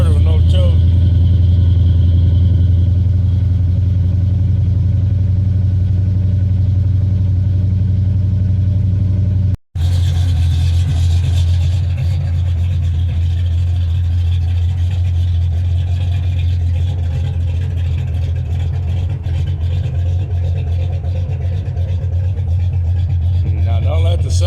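A Ford OBS truck engine cold-starts without choke in freezing Texas weather, then idles with a loud, deep, steady rumble that drops out for a split second midway before carrying on.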